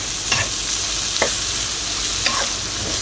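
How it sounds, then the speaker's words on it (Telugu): Broad beans (chikkudukaya vepudu) stir-fried in a pan, a steady close sizzle with a few scraping stirs of the spatula breaking through, no talking. "నాకు చాలా ఇష్టం అండి ఇది చిక్కుడుకాయ వేపుడు."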